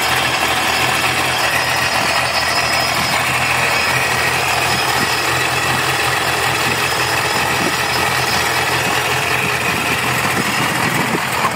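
A Pontiac GTO engine with a Procharger D-1 supercharger runs steadily nearby, a loud constant rumble with a high whine on top and no changes in revving.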